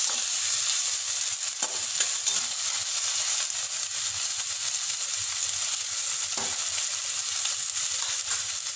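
Chopped onion, green chili and capsicum sizzle and fry steadily in a pan for macaroni, a dense, even, close hiss that continues throughout without pause.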